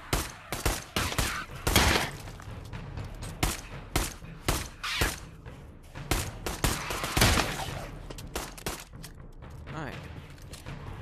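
Rapid bursts of gunfire in the VR zombie shooter Pavlov VR, loud and close, coming in uneven volleys of single shots and short automatic strings with brief gaps, over a faint voice.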